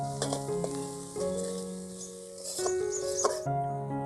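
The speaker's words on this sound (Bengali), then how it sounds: "এবার মশলাটা আমি একটু কষিয়ে নেব" Spice paste of chilli powder, salt and turmeric frying in a pan, a continuous close sizzle with scraping stirring strokes and faint tonal hum in the background.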